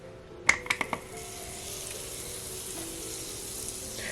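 A pat of butter dropped onto a hot Dash Mini Griddle, a few quick clicks and taps up front giving way to a soft, steady sizzle that carries on alone for several seconds.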